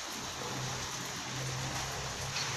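Steady, dense hiss of rain falling, even and continuous with no voices.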